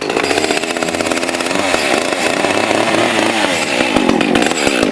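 Saw cutting into a log to make a planter, a loud, steady, close engine roar with a raspy cutting texture throughout and no pause or talking.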